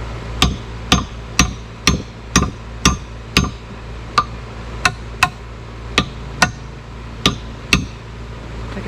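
A hammer taps down porch roof framing in a series of about thirteen sharp, evenly spaced strikes. The blows are close and distinct, with quiet gaps between them.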